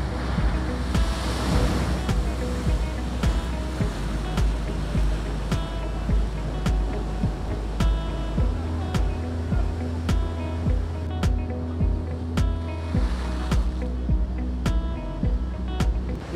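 Large waves surge and crash into a natural rock swimming pool on the Tenerife coast, a continuous loud roar of churning surf with bursts of spray and wind buffeting the microphone.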